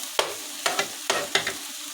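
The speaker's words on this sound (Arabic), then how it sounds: "ناخد برضو حته كده نسيحها" A piece of fatty meat frying in a pan with a drop of oil, heard as four quick scraping strokes over a light sizzle in a short burst, with no voices.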